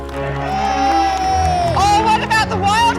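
Spectators at a jousting tournament cheer and whoop with a strong sustained shout that breaks into a livelier burst of mixed voices, loud and close throughout.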